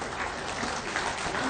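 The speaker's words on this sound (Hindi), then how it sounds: "तालियां हो।" Brief burst of steady audience applause at a government appointment letter ceremony in Jharkhand, even clapping throughout with no pause.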